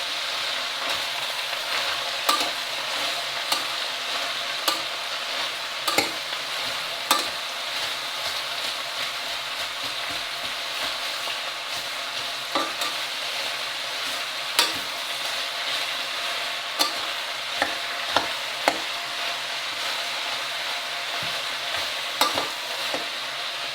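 Onions frying in oil over medium-high heat for a vegan French onion soup, a steady close sizzle with repeated sharp scrapes and clicks of stirring scattered throughout.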